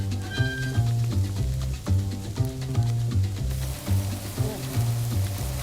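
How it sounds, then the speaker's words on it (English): Herb-basted ham sizzles over an open fire, a steady crackling hiss that grows brighter in the second half, partly buried under a rhythmic musical backing. "You hear that sizzle? Yeah. It's kissing the fat."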